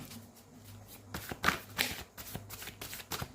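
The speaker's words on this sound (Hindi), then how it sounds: "प्रभु जी अच्छे से शफल करें।" Tarot cards being shuffled by hand, a series of close, crisp riffles and soft slaps in uneven bursts, fairly quiet.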